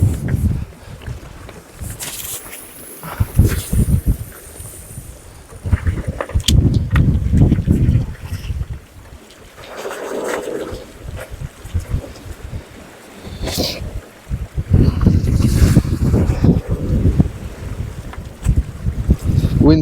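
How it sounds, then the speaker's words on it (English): Gusty wind buffets a microphone outdoors on the coast during a pollock fishing trip on the Isle of Skye, rising in loud roaring surges that swell and fade. "wind's getting up."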